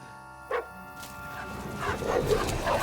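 A dog in medieval Bohemia from Kingdom Come Deliverance 2 gives one short, sharp bark up close, followed by rising outdoor ambience and scuffling noise.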